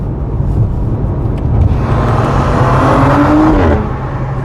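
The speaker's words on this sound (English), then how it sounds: "Shift noise is fun." A Ferrari 12Cilindri's engine runs loud and steady up close, a rising tone climbing then dropping sharply near the end as a gear shift cuts in.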